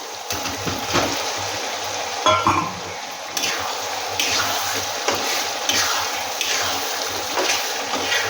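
Potatoes go into a chicken curry masala frying in oil after the tomatoes, bringing wet sizzling and stirring scrapes with a few sharp clatters, moderately loud throughout, with no voices.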